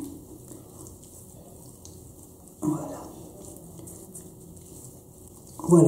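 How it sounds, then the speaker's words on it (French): Water runs from a tap as hands are wetted during an evening skincare routine, a soft continuous hiss with a brief louder splash, under quiet talking. "je mouille un petit peu mes mains"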